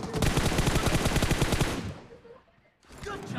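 Rapid automatic gunfire from PUBG Mobile, loud and dense bursts of shots killing enemies for nearly two seconds, then fading to quieter game ambience before more activity returns.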